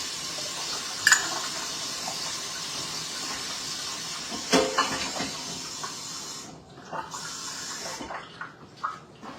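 A quart of water poured into a pot for crockpot apple butter: a steady splashing hiss running several seconds, then tapering off with a few clinks, close and fairly loud.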